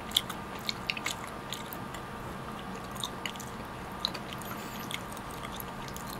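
Passion fruit flavored jelly being bitten and chewed close up, with soft squishy chewing sounds and a few small crisp bites repeating over steady room noise.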